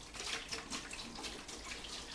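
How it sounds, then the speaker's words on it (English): Cleaning solution pours into a bucket with a continuous soft splashing and gurgling stream, heard alone and fairly quiet, during a ceramic tile cleaning job. "We'll take and we'll pour enough of the solution into the bucket"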